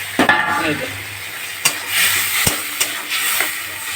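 Chopped tomato going into frying onions and spices in a pan, a steady sizzle with a few sharp clinks and scrapes of a utensil against the pan.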